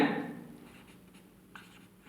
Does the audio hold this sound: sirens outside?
no